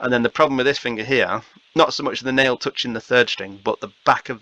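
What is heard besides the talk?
No everyday noises stand out.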